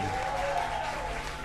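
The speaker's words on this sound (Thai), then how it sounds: "ขอเสียงปรบมือหน่อยครับ" An audience at a children's music recital claps steadily, a dense continuous patter of hands with a faint tonal hum underneath.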